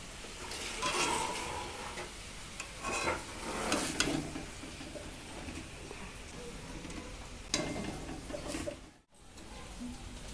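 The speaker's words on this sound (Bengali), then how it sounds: "এখানে ভেজে নেব তালের মালপোয়া" Palm fruit malpua fry in oil in a home kitchen, a soft steady sizzle with occasional stirring scrapes and clinks, fairly quiet, with brief sounds of someone nearby.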